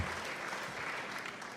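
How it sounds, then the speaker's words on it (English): The tail of a round of applause from an audience on a podcast, a faint, even wash of many hands clapping with no voices over it. "You get the ending of the round of applause."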